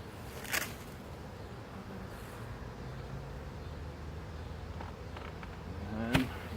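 Honeybees buzz in a steady, dense drone at an open hive during a late fall inspection, with a couple of sharp knocks near the start and end and no talking.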